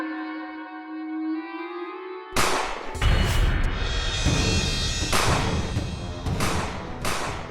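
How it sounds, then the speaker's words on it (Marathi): Cartoon gunshots during a scene near a sultan's palace in Turkey: a tonal tone cut off by a burst of sharp, loud reports in irregular succession, each followed by a noisy rumbling tail. "हा गोळ्यांचा आवाज आहे."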